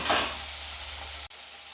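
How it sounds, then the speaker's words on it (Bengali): Shrimp rubbed with salt and turmeric hitting hot oil in a pan, a loud dense hiss and sizzle that holds steady, then cuts abruptly to a quieter frying sound near the end. "এখন এই চিংড়িটাকে এর মধ্যে দিয়ে দেবো দিয়ে ভালো করে এটাকে ভেজে নেব"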